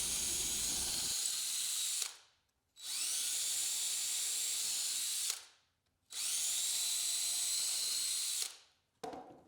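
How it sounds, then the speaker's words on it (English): A power drill bores drain holes into the base of a wooden birdhouse made from a fence picket, in three loud sustained bursts of whining motor with short pauses between them. "we're going to drill a few drain holes in the bottom of the base"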